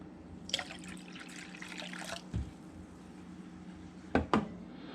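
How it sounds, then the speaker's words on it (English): Water poured from a cup into vinegar pickling brine for spicy garlic pickled quail eggs, a short splashing pour near the start, then quieter trickles and two brief splashes or clinks toward the end. "Now we're going to be adding a cup of water."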